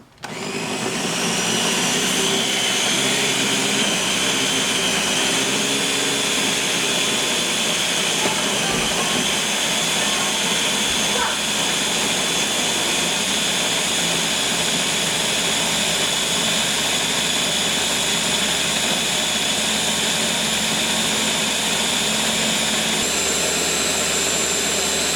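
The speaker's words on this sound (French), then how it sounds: "je vais aller broyer avec mes ingrédients" Electric grinder blending fish seasoning ingredients, a loud, steady high whine that runs almost unbroken from start to finish.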